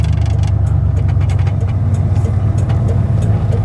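Car with a Ford AOD automatic transmission slowing down and downshifting to second gear, heard as a loud, steady low engine drone from inside the car that holds fairly even throughout, with no clear break marking the shift.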